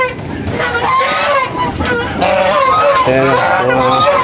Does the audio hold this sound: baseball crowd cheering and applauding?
no